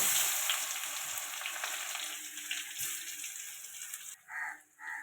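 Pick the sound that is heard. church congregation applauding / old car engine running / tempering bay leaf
tempering bay leaf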